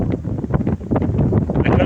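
Strong wind buffets the microphone in loud, gusty rumbles, steady throughout the short stretch.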